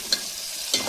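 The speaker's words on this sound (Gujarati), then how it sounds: "આ બાજુ ડુંગળી અને ટમાટર વઘાર થઈ રહ્યો છે" Onion and tomato tempering sizzles in a pan at home, a soft steady fry with brief stirring scrapes, close and alone.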